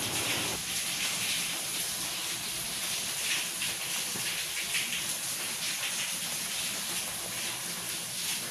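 Steady broadband hiss of steam rising from a couscous steamer cooking cauliflower, close and continuous throughout with no talk.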